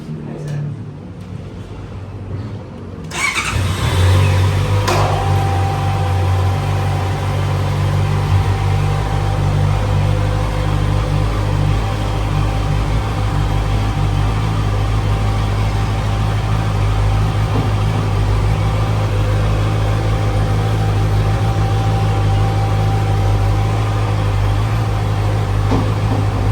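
A Honda CB650R motorcycle with E-Clutch fires up after a quiet moment, then settles into a loud, steady idle as it warms, the close engine drone holding evenly with no break.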